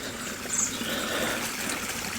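Water trickles and burbles steadily along a small garden stream with little pools, a close continuous wash of babbling flow without any voices.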